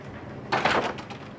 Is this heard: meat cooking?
no